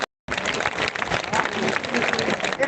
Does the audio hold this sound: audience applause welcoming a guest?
yes